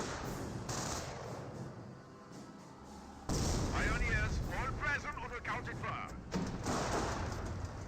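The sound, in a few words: sniper rifle shot in the video game Company of Heroes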